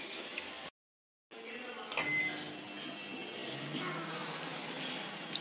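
A kitchen oven hums steadily and faintly in a home while pizza bakes. The drone breaks off in a short silence, then resumes, with a light click partway through.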